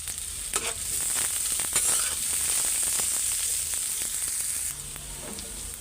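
Onions sizzle steadily in a pan while turning light red, ready for jute leaves and bitter gourd, a loud continuous hiss with occasional stirring scrapes, the sizzle dropping slightly near the end.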